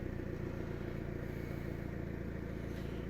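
A Ford Fusion engine idles steadily with a low, even rumble and light mechanical clatter, running nearby and continuous with no voices.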